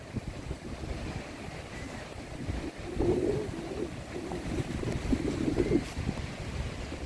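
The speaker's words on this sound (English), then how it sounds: "Fucking windy on the beach, man." Strong wind roars and buffets the microphone in gusts on a beach, with a low rumble and surf-like wash throughout and no voices.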